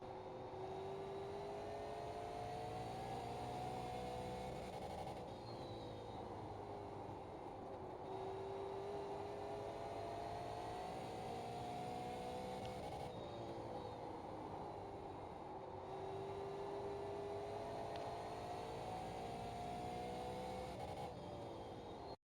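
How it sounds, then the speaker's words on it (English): A Super Late Model race car in the iRacing video game laps Five Flags, its engine droning steadily with repeated rising and falling pitch as it accelerates down straights and lifts into corners, continuous and alone throughout. "So let's give you guys a lap inside the car."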